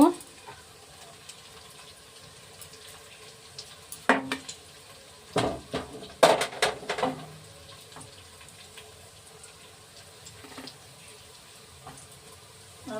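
Fried chhana balls lifted out of a frying pan: a faint oil sizzle underneath, then a cluster of close metallic scrapes and clinks from a utensil against the pan midway, fading back to soft bubbling.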